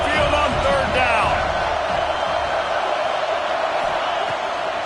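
Stadium crowd noise from a college football video game with Alabama, heard as a loud, continuous roar with scattered whoops and a brief rising whistle early on. A commentator's voice runs over the roar.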